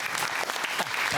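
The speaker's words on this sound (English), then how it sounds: "give him another big round of applause" Audience applause for comedian Eric Jansen at a comedy show, a loud, dense burst of clapping from a crowd, brief and continuous with a little chatter underneath.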